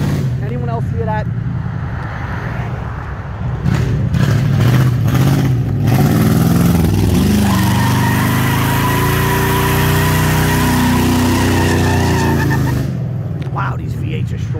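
A powerful Lincoln Continental 32-valve V8 with open exhaust roars and revs hard, holding a loud sustained growl that rises and settles, with a voice briefly heard over it.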